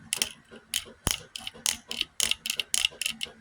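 Rapid ratcheting clicks from the elbow joint of a Transformers Combiner Wars Fireflight action figure, a dozen or so close, sharp plastic ticks in quick bursts with no talk.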